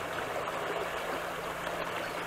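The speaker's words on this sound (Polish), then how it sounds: "A tutaj mamy jeden z potoków Iłownicy." A brook feeding the Iłownica river flows steadily, a continuous close rushing and gurgle of water with no pauses and no voices.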